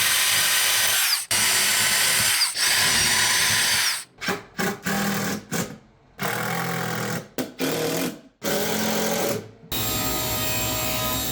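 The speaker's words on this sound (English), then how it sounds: "The way this works is I'm just gonna line it up on the edge and start drilling holes." Power drill boring holes along the edge of a cabinet board in a small woodworking shop, loud whirring bursts of drilling separated by short pauses, several runs in a row with no talk.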